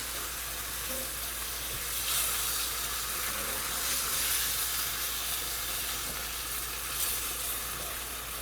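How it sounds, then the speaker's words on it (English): Beef broth poured into a hot skillet of flour-thickened gravy for Salisbury steak, giving a loud, steady, continuous sizzle and steamy hiss with no talking. "you want to add in about 1 3/4 cups of beef broth"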